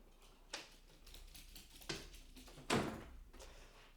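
A dog knocks at a door, producing three sharp thumps of paw against wood spaced irregularly over a few seconds, the last one the loudest, with quiet room noise between.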